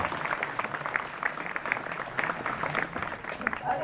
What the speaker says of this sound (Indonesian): Tepuk tangan untuk SMK Negeri 2.